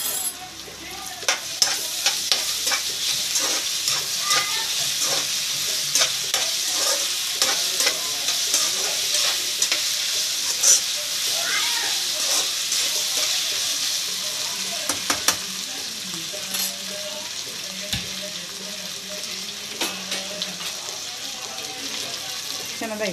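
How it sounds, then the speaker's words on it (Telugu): Ginger paste frying in oil for a potato curry, a continuous loud sizzle carrying frequent scraping stirs of a spoon against the pan, close up, with a voice talking now and then beneath the frying. "పచ్చివాసన పోయేంత వరకు కూడా నూనెలో మగ్గించుకోవాలి"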